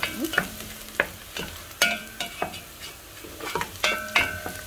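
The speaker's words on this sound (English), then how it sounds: "My onions are turning golden brown." Onions frying in a pan for pilau, turning golden brown, with a steady close sizzle and repeated stirring scrapes and clinks of a utensil against the pot.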